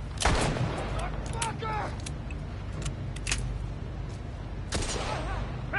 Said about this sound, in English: I swear this marksman pistol is like a rifle handgun